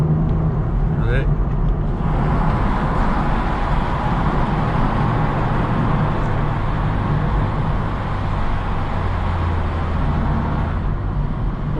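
BMW M135i engine droning steadily inside a tunnel, a continuous low rumble with road roar filling the space throughout, no clear revving peaks.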